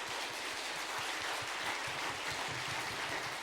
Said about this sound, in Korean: 여기까지 도우신 하나님께 우리 온 마음을 담아서 박수로 하나님께 영광의 박수를 드렸습니다.